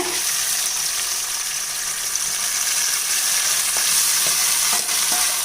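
Garlic and tomato sizzle steadily in a hot pan, a constant crackling hiss with a few faint clinks near the end.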